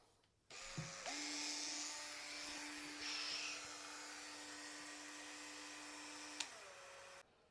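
An electric spin scrubber powered by a Milwaukee M18 battery starts up and runs with a steady, close motor whine, its scrubbing head brushing loudly against a surface, then stops abruptly after about six seconds.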